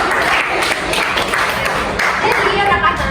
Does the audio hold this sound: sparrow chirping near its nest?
no